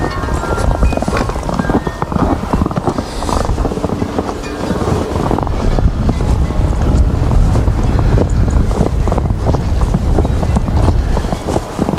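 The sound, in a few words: wind blowing against microphone outdoors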